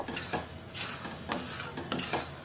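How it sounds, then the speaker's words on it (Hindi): Khoya for peda is stirred and roasted in a hot kadhai with the gas flame off, giving repeated scraping strokes of a spoon against the pan in a loose rhythm, close and fairly loud. "हमने गैस का फ्लेम बंद कर दिए हैं और गरम कढ़ाई में ही कुछ देर और इसे हमें भून लेना है।"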